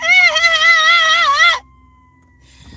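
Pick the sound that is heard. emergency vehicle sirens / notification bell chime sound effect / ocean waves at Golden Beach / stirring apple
emergency vehicle sirens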